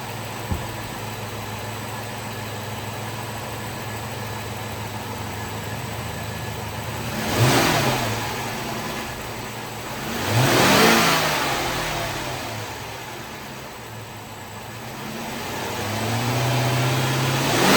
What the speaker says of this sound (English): Let's start with some light revs from the engine.